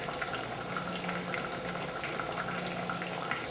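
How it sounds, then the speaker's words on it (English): A pot of beets boils on the stove, giving a continuous, close bubbling and simmering churn with no pauses. "first thing we have boiling is our beets"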